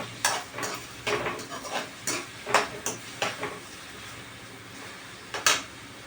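Food frying in oil in a pan until the foam dies down, a soft steady sizzle broken by scattered clinks and scrapes of a spoon stirring against the pan, close and moderate in level.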